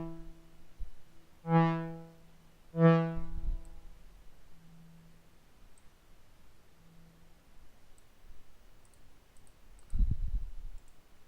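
Mouse clicks in MASSIVE synth software, two distinct sharp clicks close together early on, then a soft thump near the end, quiet and alone with no talk.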